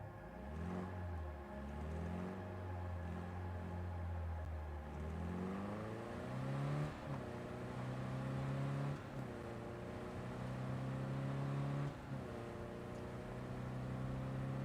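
The slowest-accelerating car in Cyberpunk 2077 builds speed gradually with a droning engine note that climbs in pitch, while gear shifts cut in at intervals. The sound is fairly quiet and steady and no one speaks.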